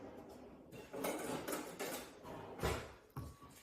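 Apples are stirred with lemon juice in a bowl, giving soft, irregular clinks and scrapes of a utensil against the dish, close and quiet.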